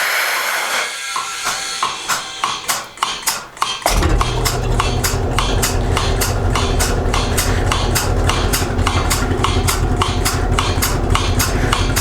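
A Surge belly milker on a dairy setup starts up as vacuum is applied, settling into a loud, steady hiss broken by a fast, regular pulsing click that repeats evenly throughout, with no talk.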